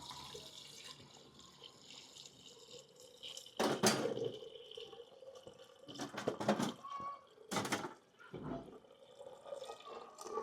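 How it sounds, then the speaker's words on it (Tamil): Water is poured over cassava in a cooking pot in a few short splashing bursts, faint and close, separated by quiet pauses. "இப்போ மரவள்ளிக்கிழங்குக்குள்ளே தண்ணியை ஊற்றிடுவோம்"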